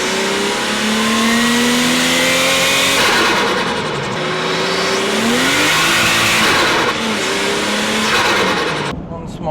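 A Nissan Skyline exhaust revs up through several gear changes, rising and falling in pitch, loud and close, while a person talks over the engine.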